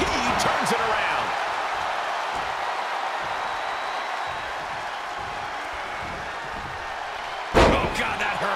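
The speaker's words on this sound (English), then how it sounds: "Oh, what a kick." A kick lands in the WWE 2K22 wrestling game with a sharp, loud slam near the end, following steady arena crowd noise and commentary talking throughout.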